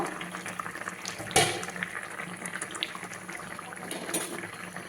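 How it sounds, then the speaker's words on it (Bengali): An egg curry simmers under a lid in a pan, giving a soft, continuous bubbling with faint crackles and one brief louder clatter near the start. No voices are heard. "ঢাকা দিয়ে ফুটিয়ে নেব ঢাকনাটা খুলে একটু দেখে নেব"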